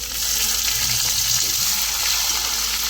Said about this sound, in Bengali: পেঁয়াজ লাল করে রসুন ভাজা হয়ে গেছে